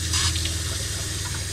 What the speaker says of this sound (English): Here we've got our sink